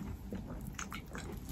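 Someone bites into and chews chilled, juicy peeled fruit, eating only the flesh, with wet, soft chewing bursts close to the mic over a steady background hum.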